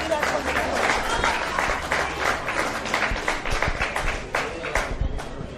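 Sustained applause from a crowd at a women's football match, Box Hill United against Essendon Royals, dense steady clapping with some crowd noise and voices mixed in throughout.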